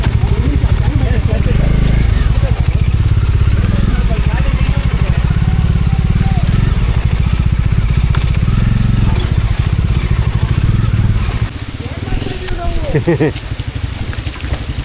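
An off-road vehicle's engine runs loud and close on a rough offroading trail at Hebri, with a steady rumbling drone that drops away near the end, while people talk over it.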